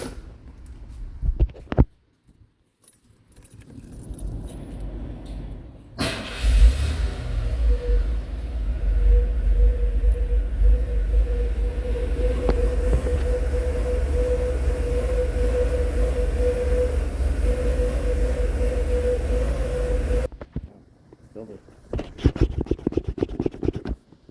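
A truck engine under repair, with injectors reseated and timing still being set, cranks and catches, then runs at a loud, steady, rumbling idle before shutting off, with clicks and handling noises before and after.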